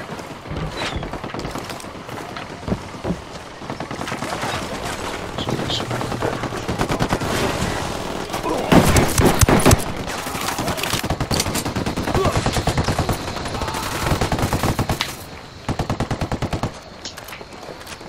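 Enemy gunfire in Ghost Recon Wildlands, shooters firing from inside buildings through windows: dense, continuous bursts of automatic and single shots at mid distance, rising in intensity midway, with voices talking over it now and then.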